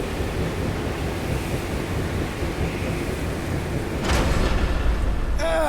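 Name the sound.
strong wind gusts in Guardians of the Galaxy video game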